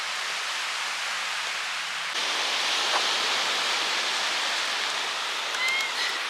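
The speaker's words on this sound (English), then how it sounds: "We made it to the beach finally." Beach surf, a steady broadband wash of breaking waves heard alone and fairly loud, swelling slightly partway through with no voices.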